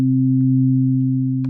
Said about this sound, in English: add the second sine wave to that